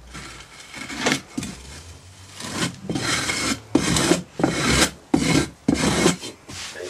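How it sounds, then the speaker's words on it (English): A strickler scrapes excess moulding sand flat across a rammed casting box in about eight or nine short, close, gritty rasping strokes, each one sharp and loud, with no talking. "once you get the box all rammed down full of sand, strike it off flat, or strickle it. Get a strickler in there"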